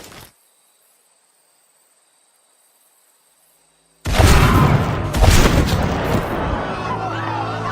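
Sniper gunshots in a Lego zombie film: after near silence with a faint high hum, a sudden loud burst of several gunshot cracks and booms with rumbling echo that continues to the end.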